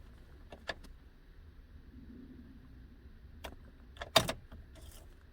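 Car key pulled from the ignition of a 2009 GM truck, a few faint clicks and a sharp metallic rattle near the end over a quiet low hum.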